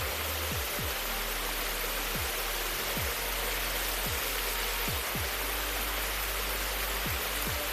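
Water pours from a waterfall in a constant, dense hiss, steady from start to finish, with faint low thumps at a regular beat beneath the rushing flow.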